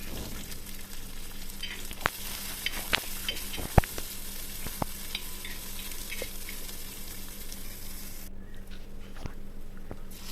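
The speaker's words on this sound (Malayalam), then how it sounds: "വലിയ 2 സവാള അരിഞ്ഞതും ചേർത്തിട്ട് നന്നായി വഴറ്റുക." Chopped onions, green chillies and curry leaves sauté in a pan for a Kerala kothu porotta, a steady close sizzle broken by sharp spoon taps and scrapes, and a dog whimpers faintly in the background.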